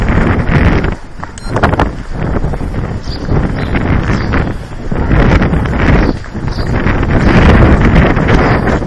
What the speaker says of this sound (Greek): Ο αέρας είναι πάρα πολύ δυνατός και το παρασέρνει